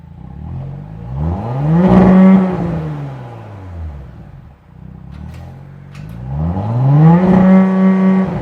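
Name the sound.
Audi S5 2018 V6 engine while cruising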